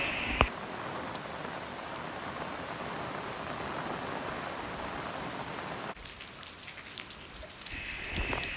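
Monsoon rain falls steadily on garden palms and potted plants, a dense near hiss of drops that drops in level partway through and then patters more lightly.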